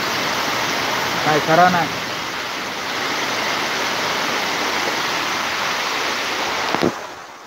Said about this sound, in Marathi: म्हणजे जास्त मोठो नाही हा पाऊस, बारीकच असा